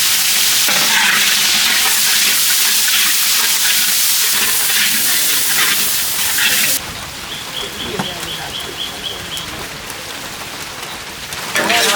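Chopped onions sizzle and crackle steadily in hot oil in a wok, a loud dense frying hiss with heavy rain close by, the texture shifting partway through as the sizzle settles.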